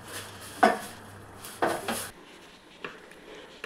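Banana-flower fritters drop into potato curry in a pot, giving two or three sharp metallic clinks of utensil against the pot, then quieter faint knocks in a kitchen, with no talking.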